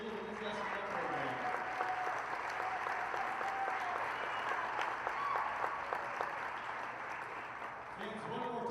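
A crowd of fans claps steadily at a Taylor versus Huntington women's basketball game honoring the senior class, an even roar of applause filling the gym, with a faint voice rising over it near the end.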